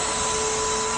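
A Tineco iFLOOR 3 Breeze cordless wet-dry floor cleaner runs with a loud, steady motor whine and airy rush, constant throughout with no voices.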